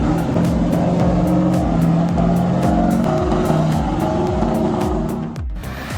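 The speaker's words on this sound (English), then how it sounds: "This classic beast roars, showcasing the unparalleled performance and iconic sound of the 12V71 engine" A 12V71 diesel truck engine roars loud and steady in a heavy-load wood truck, with a rhythmic low pulsing throughout before it eases off near the end.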